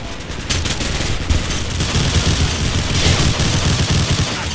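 Rapid automatic gunfire from a Call of Duty match set in Rio's Turano neighbourhood, with dense overlapping bursts crackling continuously from start to finish.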